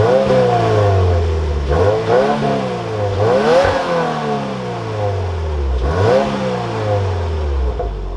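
A 2023 Subaru WRX engine revs repeatedly close up, each loud climb in pitch dropping back between rises.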